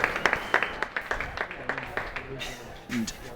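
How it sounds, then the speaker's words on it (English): Crowd applause at an Australian rules football match in the NTFL Premier League, scattered claps from a modest crowd that thin out over a few seconds, with a voice speaking over them. "And just listen to the applause there."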